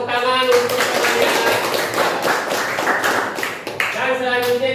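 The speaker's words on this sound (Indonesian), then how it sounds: "Tepuk tangan untuk temannya." Children in a classroom clapping for a classmate, a short burst of hand claps with a teacher's voice speaking before and after.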